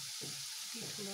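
Spices for cabbage sabzi fry in hot oil with a soft, even sizzle, joined briefly by a faint low murmur of a voice in the background.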